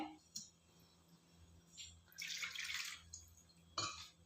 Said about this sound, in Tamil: கொஞ்சம் தண்ணி விட்டு அலம்பி விட்டுக்கிறேன்